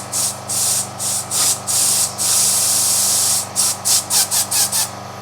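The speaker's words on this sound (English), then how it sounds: "using some air to extend the bag a bit there, or the bellows" Short blasts of compressed air inflate the bellows of a motorhome air suspension, a close, loud hiss in several bursts, longer at first and then quicker, choppier puffs.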